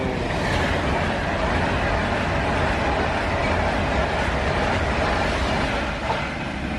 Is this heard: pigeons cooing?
no